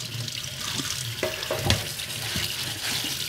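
Running water splashes steadily while parts from a Fujitsu split-system air conditioner are washed, with brief scrubbing knocks and clatters mixed into the flow. Close and moderately loud.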